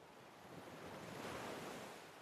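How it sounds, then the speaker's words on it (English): Ocean waves on a Hawaiian shore at night: a soft, continuous wash of surf that swells gently and recedes, distant and faint, with a breathy wind-like texture and no voices. "The wave comes in"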